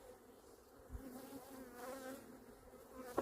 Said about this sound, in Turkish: Bunlar geri dönen tarlacı arılar. Uçan arılar.